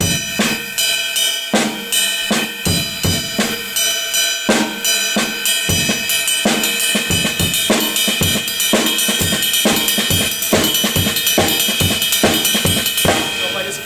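A drum kit plays a steady driving rock samba groove with a backbeat on count 2, busy cymbals over regular kick and snare hits, loud and close.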